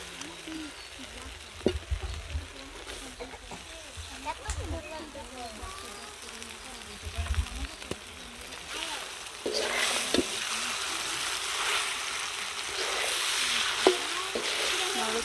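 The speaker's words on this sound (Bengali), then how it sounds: "পেঁয়াজটা ভেজে নিয়েছি, এখন সেদ্ধ করা নুডলস দিয়ে দেব।" Boiled noodles are stir-fried with fried onion in a pan, with clattering stirring knocks and a low sizzle that grows louder and more constant in the second half, while a voice talks faintly underneath.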